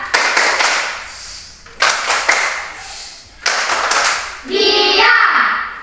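Children play a rhythmic classroom clapping game at an Indonesian school, with bursts of sharp hand claps and taps in groups separated by short pauses, then a voice joins near the end.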